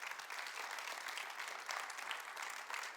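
A church congregation applauding during a Spanish-language sermon, a steady wash of many hands clapping at moderate distance for about three seconds, fairly faint, with no speech over it.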